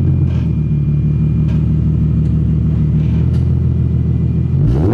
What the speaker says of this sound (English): See if he revs it up for us.